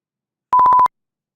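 Electronic beep tone in a short burst of about six rapid pulses at one steady pitch, lasting under half a second, loud and alone against silence.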